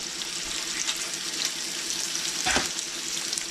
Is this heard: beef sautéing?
yes